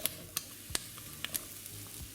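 Mushrooms and seitan frying in a pan, a low steady sizzle broken by a few sharp clicks and scrapes as the pieces are stirred, close and fairly quiet with no voices.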